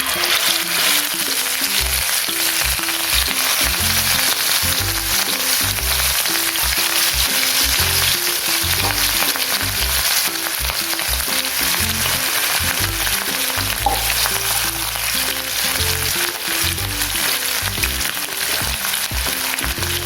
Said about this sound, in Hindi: अब देखिए मछली फ्राई हो गया है